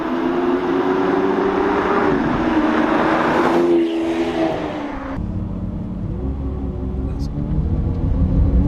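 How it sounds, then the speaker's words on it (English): A Lamborghini Aventador's V12 engine hums steadily while driving and warming up, a continuous close mechanical drone with rising and falling tones, under ongoing cabin noise. "I can hear that V12 slowly warming up"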